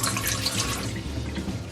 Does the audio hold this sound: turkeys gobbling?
no